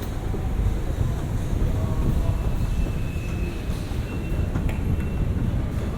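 A train pulls in at an underground station platform below an escalator, a steady low rumble and rolling hum holding level throughout, with faint squeals and clanks above it and no voices.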